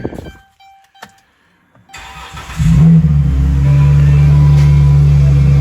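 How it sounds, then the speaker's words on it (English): A 2013 Chrysler Town and Country minivan engine with a faulty exhaust starts and settles into a loud, steady, rumbling idle with a raspy, uneven exhaust note. "there's something wrong with the exhaust"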